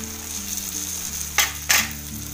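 Prawn masala with potato and fresh coriander simmering in a pan, a steady close sizzle with two brief louder bursts of crackle partway through, no talking.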